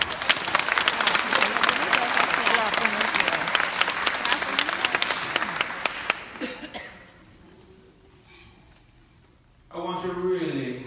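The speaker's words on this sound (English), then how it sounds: "big round of applause" Loud, dense applause from a crowd at an outdoor festival fills the first six seconds, then fades out, followed by a voice speaking.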